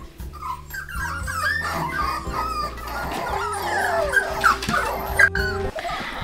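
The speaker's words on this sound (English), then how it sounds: "Who is being very whiny?" Puppies and dogs whining and whimpering at home, a continuous chorus of high, wavering cries and yips, close and fairly loud, with low household noise underneath.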